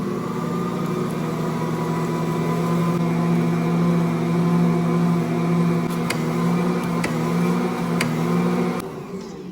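An electric stand mixer kneads sourdough discard sandwich bread dough with a steady, close motor whine and hum, with occasional light clicks and knocks, running continuously before the motor drops off right at the end.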